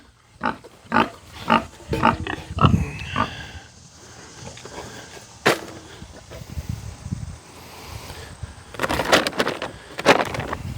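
A hungry pig grunts and squeals repeatedly in irregular bursts, close by, with quieter gaps between outbursts and a louder cluster of noise near the end.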